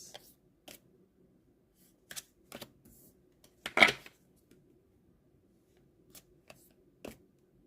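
A brief riffle of cards being shuffled, surrounded by scattered light clicks and taps in an otherwise quiet room, with no talking.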